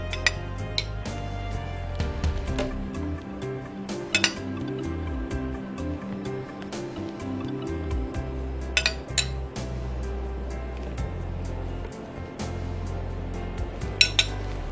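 Sweet yogurt spooned into a blender jar for a lassi or smoothie: repeated clinks and scrapes of a spoon against the jar and bowl, with a few sharper taps, all over a steady low hum.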